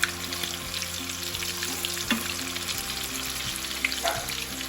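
Pieces of Louisiana-style fried chicken bubble and crackle in hot oil, a steady, busy sizzle with scattered pops and spits, heard alone at moderate distance.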